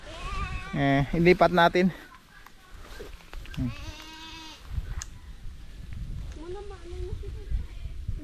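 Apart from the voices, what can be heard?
goats bleating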